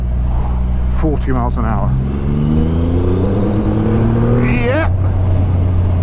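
A 2020 Triumph Rocket 3 GT motorcycle engine revs up from 2,000 rpm in third gear and climbs in pitch as it accelerates, loud and close, with someone speaking over it briefly.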